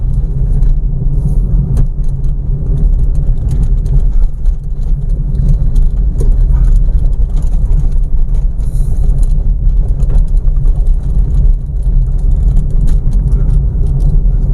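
Steady, loud engine drone and road rumble from a manual car cruising at about 40 in fourth gear on a highway, continuous throughout with no talking.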